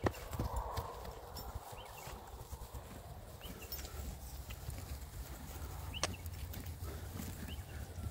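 Faint, irregular hoof clops of a horse moving over ground, with light outdoor ambience and an occasional soft bird call.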